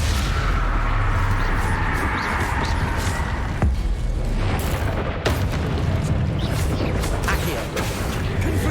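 Explosive Confringo spell blasts in Hogwarts Legacy form a dense, continuous low rumble of overlapping booms and mechanical clatter during heavy combat, with a few sharper impacts cutting through.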